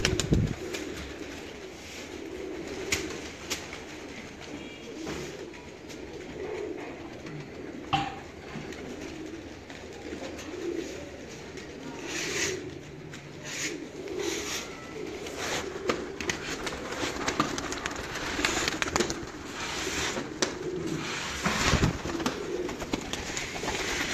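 Pigeons coo softly and repeatedly in a loft, low throaty calls overlapping with occasional wing flutters and background rustling, with no talking.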